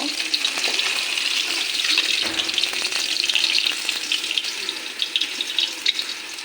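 Tengra fish and eggplant frying in oil in a pan, a steady close crackling sizzle with light stirring scrapes and faint watery clinks, no voices.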